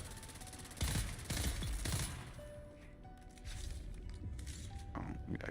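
A burst-fire gun in a desert-set shooter video game fires with a 48-round magazine in quick, loud rapid bursts early on, then the shooting continues more evenly and quietly. Players talk over the gunfire.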